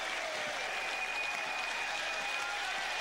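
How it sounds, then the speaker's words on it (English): A tennis crowd at the 2003 US Open semifinal between Nalbandian and Roddick applauding in a steady, even wash of clapping that sounds somewhat distant and soft for a few seconds. "here's the crowd trying desperately to get into it"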